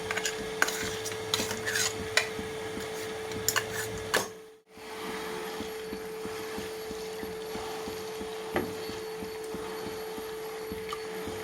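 Herb leaves stirred in cooking oil in a pot, a soft continuous sizzle with scattered scraping and clinking of the spoon against the metal, close and fairly faint, with a steady background tone and a brief dropout partway through.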